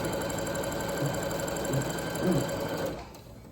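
A sewing machine stitches fleece blanket panels together, its rapid mechanical chatter running steadily and close before slowing to a stop near the end, with no talking.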